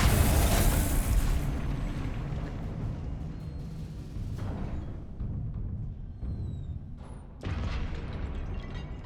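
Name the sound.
Confringo explosive curse blast, Hogwarts Legacy video game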